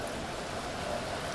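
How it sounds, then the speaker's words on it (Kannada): Heavy monsoon rain pours down steadily at a large Konkan Railway station, a dense, even hiss of falling water with no break and no voices. "ಸೊ ಮಳೆ ನೋಡ್ರಿ ಇಲ್ಲೇ."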